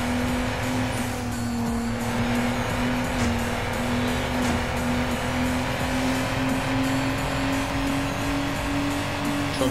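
Race cars sliding in the Need for Speed Underground video game, a steady loud engine drone with a held tone and tire noise running continuously throughout, with no talk.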